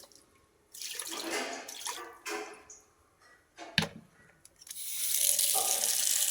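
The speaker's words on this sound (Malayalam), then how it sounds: "ഈ വെള്ളം ഇപ്പോൾ പുറത്ത് പോവും." Water poured out through a stove in a home kitchen comes as bursts of splashing and gushing, with a sharp knock midway and then a steady rush of flowing water.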